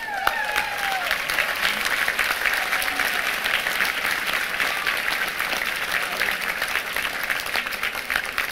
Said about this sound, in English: And thank you for giving her that applause.